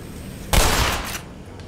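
A short burst of video game gunfire in Black Mesa, one loud blast followed by a brief rattling tail that fades within about a second.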